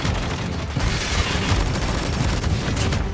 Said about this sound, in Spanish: por aquí escucho disparos